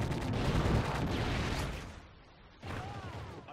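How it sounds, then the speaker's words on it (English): A Predator missile strike in a military shooter video game, heard as a loud, rumbling blast with dense roaring debris that fades out, followed by a sharper burst of noise and clatter. "Friendly Predator missile inbound"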